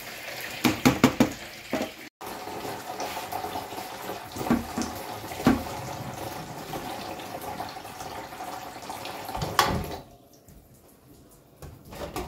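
Washed bitter leaf draining in a sink, water splashing and trickling steadily with a few clattering knocks early on, before the flow cuts off near the end.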